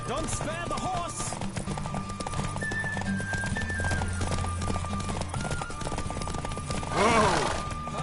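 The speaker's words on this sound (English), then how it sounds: "Don't spare the horse!" Horse hooves clip-clopping at a gallop in The Witcher 3 video game, a steady rapid rhythm with a brief whinny, under music and a voice talking.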